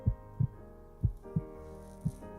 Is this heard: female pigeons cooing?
no